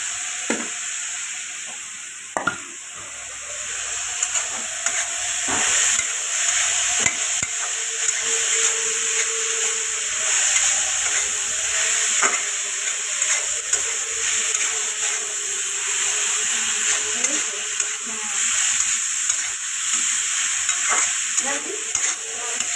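Food sizzles steadily in hot oil in a pan while a utensil stirs and scrapes it, giving sharp irregular scrapes and knocks over a continuous close frying hiss.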